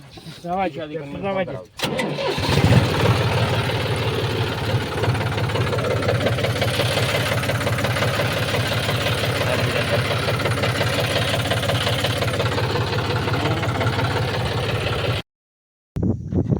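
A tractor engine rumbles loudly and steadily at close range, with a voice speaking over it, then briefly drops out near the end.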